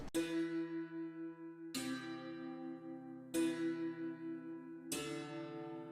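A santur strikes four ringing chords with the third removed, each evenly spaced about a second and a half apart and left to shimmer and decay before the next.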